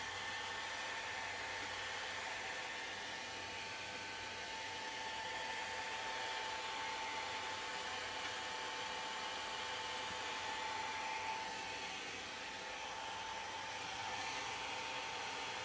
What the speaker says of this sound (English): I'm just going to take the hairdryer and dry this real quick